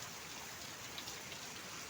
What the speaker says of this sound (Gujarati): વરસાદ ચાલુ છે જોરદાર બારિશ ચાલુ છે